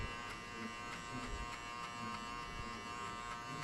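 Electric hair clipper buzzing steadily at close range during a buzzcut, a continuous motor hum with small fluctuations as it moves through the hair.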